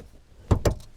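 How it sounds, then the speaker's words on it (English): Two solid clunks about a beat apart as the rear seat of a 2022 Toyota RAV4 Hybrid is folded down, close and fairly soft in a quiet cabin. "in order to fold the seats down, you just reach up"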